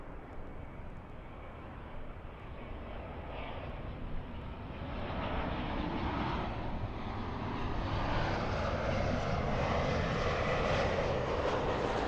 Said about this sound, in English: let's see how fast it's going to be taxiing